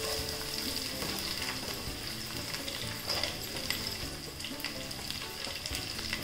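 Onion, carrot and green chili frying in a pan for upma, a continuous close sizzle with frequent crackles and light stirring clatter, steady and fairly quiet, no speech.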